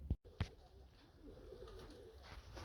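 Pet pigeons let out to bathe coo softly in the background, with a couple of brief louder knocks near the start followed by steady low ambient noise.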